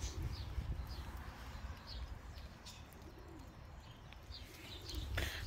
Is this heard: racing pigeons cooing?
yes